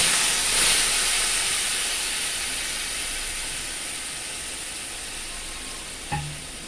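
Water poured into a hot pan of fried Gobindobhog rice for a fish-head muri ghonto bursts into a loud, close hiss of steam that slowly fades, with a brief utensil clink near the end.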